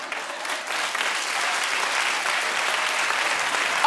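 Studio audience at a TV talk show applauds steadily and loudly throughout, a dense wash of clapping with faint cheering mixed in.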